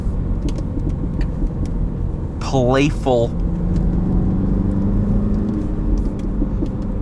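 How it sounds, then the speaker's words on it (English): Stock exhaust of a 2019 Mini Cooper S Classic automatic accelerating, a loud steady engine drone and road rumble heard from inside the car, with someone talking over it briefly. "For a stock exhaust, they're loud."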